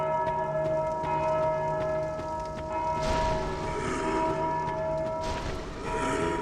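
A bell rings with a steady sustained tone over a low droning ambience in a dark fantasy action video game, with two louder swells of rumbling noise partway through.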